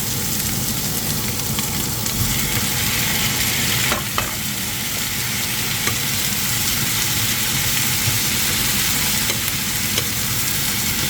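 Chicken pieces frying in a pan for afritada, a loud, dense, continuous sizzle close by, with a couple of brief clinks and no talking.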